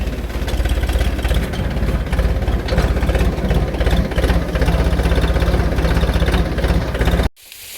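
A farm tractor's engine runs steadily up close at a sugarcane field, a loud continuous low throb that cuts off abruptly near the end.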